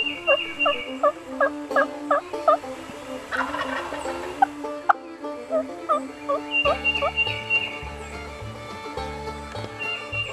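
A wild turkey gobbler roosted on a tree limb gobbles in loud, rattling bursts, repeated several times across the stretch, with some rustling and thumping between calls.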